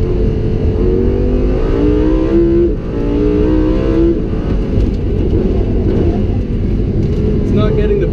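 A Lamborghini Huracan engine roars and accelerates on a figure-eight track, loud and close, with rising and falling pitch as it revs, while someone talks over it.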